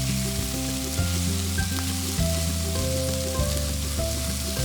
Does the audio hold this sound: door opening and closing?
no